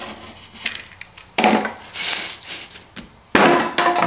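A scored surfboard foam blank, cut about halfway through with a razor knife, snaps and cracks in a few loud, sharp bursts separated by short pauses, with dry rubbing and creaking in between.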